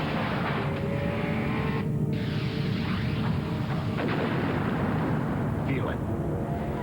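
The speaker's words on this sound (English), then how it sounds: "Miller Genuine Draft Rusty Wallace stock car." Stock cars roaring around the Rockingham speedway during the 1993 NASCAR Cup race, including the Miller Genuine Draft Rusty Wallace car: a loud, continuous engine drone with passing swells, and a voice talking over it throughout.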